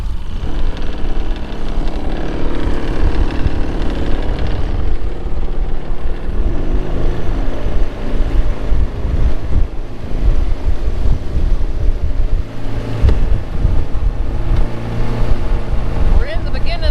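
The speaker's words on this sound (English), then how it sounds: "You see the Spartina grass just whipping in the wind." Wind whipping through Spartina grass at a marsh, a constant loud roar and buffeting across the whole stretch, with people talking over it.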